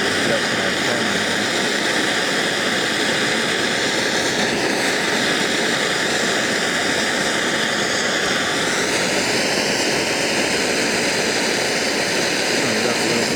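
A homemade waste motor oil gasifier burner burns used motor oil vapor with a loud, constant roaring rush of flame and blower at close range. The noise stays unbroken throughout and rises slightly in pitch partway through.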